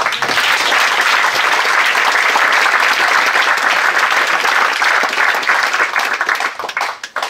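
Warm audience applause fills a Paris conference hall, a loud, dense roar of clapping that stays steady for several seconds and then tapers into scattered individual claps.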